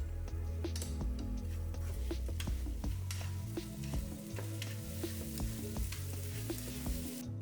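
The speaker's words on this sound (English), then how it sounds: "And I'll just finish that up by mixing in a knob of butter." A knob of butter stirred into a hot pan of breakfast banh mi filling, giving a steady, low sizzle with faint ticking and tapping running under it, close by and free of talk.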